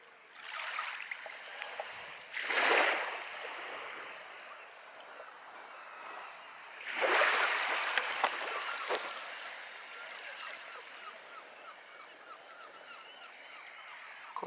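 Waves wash up on a beach in two broad surges a few seconds apart, a soft hiss over a constant outdoor rush, moderately close with no talk over it.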